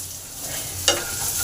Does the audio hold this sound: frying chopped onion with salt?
yes